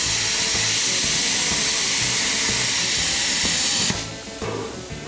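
Plasma cutter cutting through painted metal on a copper-wound stator, a loud continuous hissing roar with rapid crackling that holds steady, then drops off near the end.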